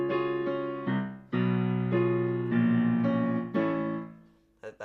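Piano plays the ballad ending of a song, a slow sequence of sustained chords struck one after another and left ringing, close and clear with no talking.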